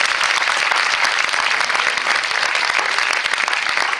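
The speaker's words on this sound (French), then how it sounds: "On applaudit Denis aussi." Loud, dense applause from a cinema audience greets director Denis Malval at a film premiere in Rochefort, sustained evenly throughout without speech.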